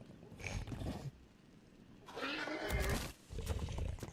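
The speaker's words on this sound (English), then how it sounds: "That's a horse and he's trapped back there." A horse in the video game ARK neighs and whinnies in short bursts, loud and close, over a busy game soundscape with rumbling and rustling between calls.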